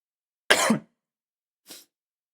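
Two coughs from a person who is ill: a loud, rough first cough followed about a second later by a shorter, fainter one, with silence around them.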